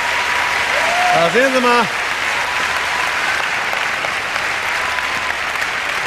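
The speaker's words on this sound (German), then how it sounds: "Da sind sie alle und jubeln dir zu. Das Publikum ist auch begeistert." Studio audience at a Paris Eurodisney taping of a German TV game show applauds steadily in a dense, sustained wash of clapping, while someone speaks briefly over it near the start.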